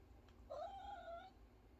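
A pet cat named Hades gives a single clear, drawn-out meow of about a second, close but soft, against a quiet room.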